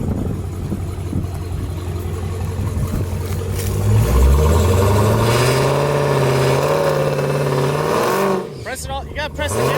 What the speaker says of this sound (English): Hold the brake, press the gas all the way down